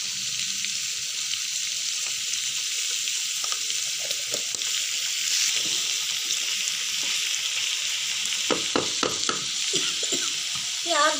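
Onions with a little turmeric fry in a pan with a steady, bright sizzle throughout, broken by scattered stirring scrapes and a cluster of sharper spoon knocks near the end, no speech.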